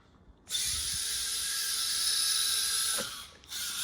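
Furitek Iguana Pro ESC and Chameleon motor on a 3S RC car, against a 2S stock ESC with aux motor, let out a loud sustained high-pitched electric whine that starts abruptly, holds steady, dips briefly near the end and then resumes.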